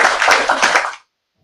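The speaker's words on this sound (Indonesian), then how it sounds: "Tepuk tangan dong." Audience clapping at an Islamic religious lecture, a short dense burst of applause lasting about a second, loud and close, then cutting off to silence.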